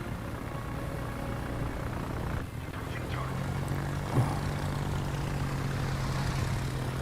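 Aircraft squadron engines in World of Warships give a steady propeller drone that holds throughout under a low ambient hum, moderately loud and continuous.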